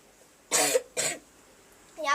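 Two short coughs close together, then a third after a pause, caused by smoke, near and fairly loud against a quiet background.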